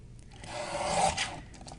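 A paper trimmer blade sliding along a strip of paper, one short, soft rasping swipe that swells and fades within about a second and a half, close and quiet.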